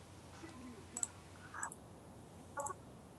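A few sharp mouse clicks, single and in quick pairs, during play of the online game Margonem, faint and spaced apart over a quiet room hiss.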